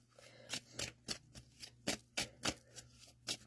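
Small pocket-size cards, little enough to fit the palm, are shuffled by hand in about ten crisp, close riffling bursts at an irregular rhythm, with no talking.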